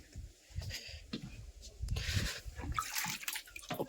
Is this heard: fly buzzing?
no